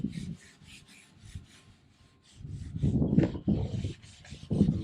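A rag rubs Cerakote trim coat onto car trim in short, overlapping scrubbing strokes, close and moderately loud, with quieter rasping passes between the heavier bursts.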